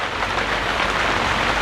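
Heavy rain pours steadily outdoors, a dense, even wash of loud, close patter and hiss across the whole stretch with no pauses and no talk.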